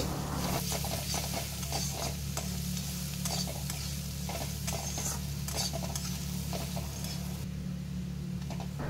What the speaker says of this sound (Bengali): রসুনটা দিয়ে খুব ভালো করে ভেজে নেব যতক্ষণ না রসুনের কাঁচা গন্ধটা যাচ্ছে